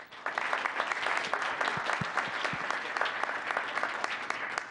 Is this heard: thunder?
no